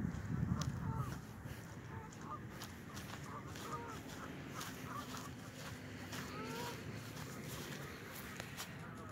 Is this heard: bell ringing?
no